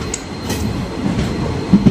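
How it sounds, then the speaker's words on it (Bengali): A local train pulls into platform 2 at Jogighopa station in Assam: a steady, close rail rumble with two heavier clunks near the end and no voices. "যোগীর ঘোপা স্টেশনে 2 নম্বর প্ল্যাটফর্মে আমাদের ট্রেন ঢুকে পড়লো"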